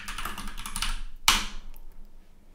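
Someone types a command on a computer keyboard with a quick run of close, light key clicks, then one sharper, louder keystroke, and quiet follows.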